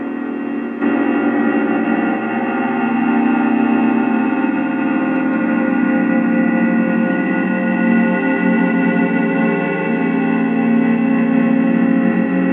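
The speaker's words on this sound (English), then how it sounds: "This is the sound of the sun." A dense, droning wash of layered electronic tones hums steadily and loudly, unchanging and without talk.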